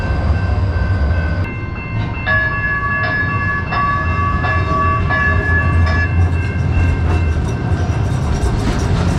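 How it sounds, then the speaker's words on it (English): Calgary's C-Train light rail runs through the library, a loud, continuous rumble of rolling rail cars with sustained bright ringing tones rising over the steady roar. "The city's light rail called Sea Train runs through the belly of the library."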